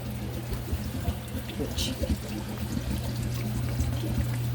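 Water pours and trickles down into an aquarium sump fed by an overflow box and lift pump, a steady splashing under a low pump hum, with a voice speaking briefly.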